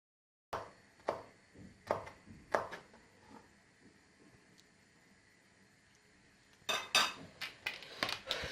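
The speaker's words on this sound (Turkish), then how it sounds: "Şimdi domateslerimizin kabuğunu soyup küp küp doğrayacağız." A knife dicing peeled tomatoes on a cutting board, several sharp evenly spaced cuts, a pause with faint taps, then a faster burst of chopping.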